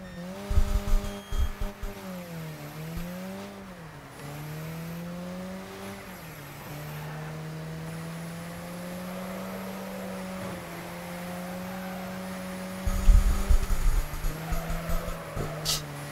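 A three-wheel car in the video game Wreckfest whines with a steady engine tone that bends in pitch, broken by bursts of tire squeal and skidding, with sharp crunching impacts near the start and end.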